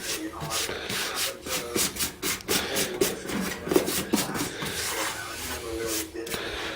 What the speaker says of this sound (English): just has to be done with a Rolex wheel